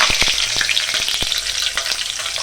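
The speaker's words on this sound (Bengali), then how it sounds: "এবার আমি শুকনো লঙ্কা আর একটু পাঁচ ফোড়ন তেলে" Dried red chillies and panch phoron fry in hot oil in a kadai, giving a loud, steady sizzling hiss dotted with sharp little crackles and pops.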